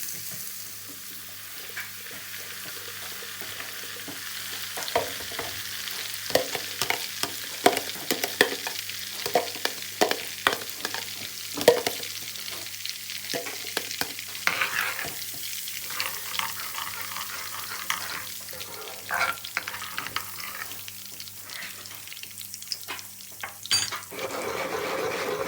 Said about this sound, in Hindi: हम लहसुन की जो पेस्ट बनाई है हमने ऑयल के अंदर, वो डाल देंगे इसके अंदर।